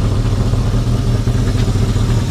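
A Yamaha XS1100 motorcycle engine idles slightly high, a steady, loud, close rumble with even pulsing and no voices.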